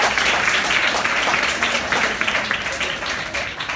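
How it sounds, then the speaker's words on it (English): An audience at a motivational speech applauds for Nader, a sustained, fairly loud wash of many hands clapping that thins slightly toward the end. "Can you please give a round of applause for Nader?"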